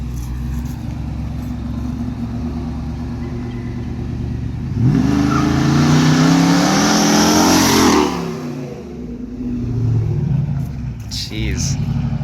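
A car with a procharged 426 Hemi engine idles with a loping burble, then is revved up for a few seconds before it backs up and settles again, heard close by outdoors.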